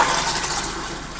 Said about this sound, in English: and then flush it down one more time.